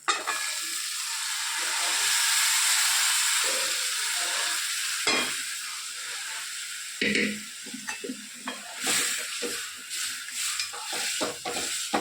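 A spice masala mixture for pulao is stirred in a hot pan, with a continuous sizzling hiss broken by scraping strokes of a spoon against the metal, close and clear.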